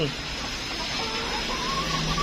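Laying hens in a small backyard coop cluck and murmur steadily at feeding time. A constant hissy background runs underneath, and the birds' calls are soft and partly masked rather than standing out clearly.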